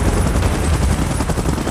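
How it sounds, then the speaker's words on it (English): A PUBG Mobile helicopter, a loud steady rotor throb with a fast pulsing chop that carries through the whole clip, close and continuous. "Chopper in position."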